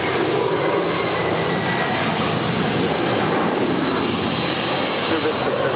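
A JetBlue jet airliner roars steadily during its takeoff run at LAX, a dense continuous broadband engine rumble and hiss that stays loud and even throughout.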